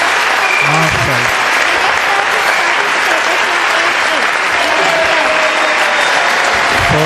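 A school audience at an annual award ceremony claps loud and steady for the winners, the applause dense and continuous throughout.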